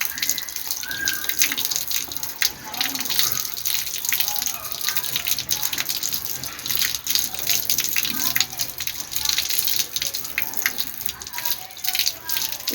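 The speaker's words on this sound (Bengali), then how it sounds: "ভালো করে ধুয়ে তারপরে নিয়ে আমি রসুনের জলে ডুবিয়ে দেব।" Orchid roots rinsed under running water from a tap, a steady splashing gush with irregular trickles and drips throughout, fairly close and alone.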